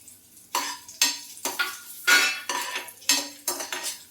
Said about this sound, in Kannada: ದ್ರಾಕ್ಷಿ ಸ್ವಲ್ಪ ದಪ್ಪ ಆಗಬೇಕು, ಅಲ್ಲಿವರೆಗೂ ಫ್ರೈ ಮಾಡ್ಕೋಬೇಕು ಈ ಥರ.